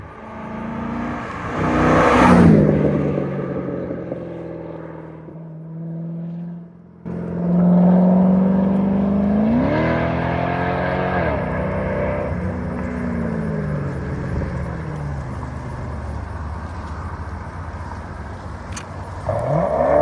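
500hp Corvette with a new exhaust system approaches and revs hard, loud rising and falling engine notes with a brief lull, then a deep rumbling pass close by as it drives off.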